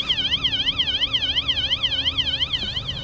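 A Temu motion-activated animal repellent alarm wails outdoors, a loud warbling electronic siren that sweeps rapidly up and down in steady cycles throughout.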